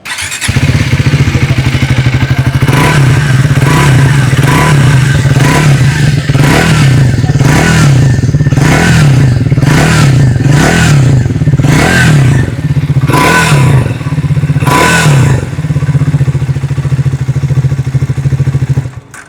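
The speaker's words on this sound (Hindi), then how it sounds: "आइए अब सुन लेते हैं इस बाइक की एग्जॉस्ट नोट।" A 2026 Triumph Speed 400 with a new 350cc engine, its exhaust giving a steady loud close idle thump broken by repeated sharp throttle blips that rise and fall, with no talking over it.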